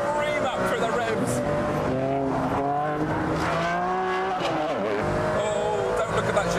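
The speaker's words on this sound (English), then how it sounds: "Now the Ferrari's alive. The lights on the wheels scream up through the revs." Ferrari Enzo engine screaming up through the revs on a race track, rising harmonic whine climbing repeatedly with brief throttle lifts between pulls, loud and close throughout.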